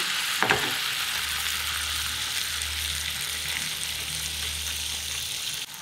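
Garlic and a ladle of beans sizzle and fry in a pan during a home cooking lesson on bean stew, a steady close frying hiss with a brief sharp crackle near the start, no talking.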